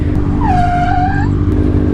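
A single high tire screech rises and wavers for under a second over the steady rumble of a car engine.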